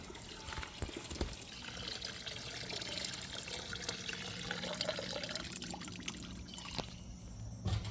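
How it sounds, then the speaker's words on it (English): Gasoline draining out of the fuel tank of a 1997-2002 Chevy Blazer: a steady, faint trickling pour of liquid that runs continuously, with no talk over it. "Alright, so we're gonna drain our fuel tank."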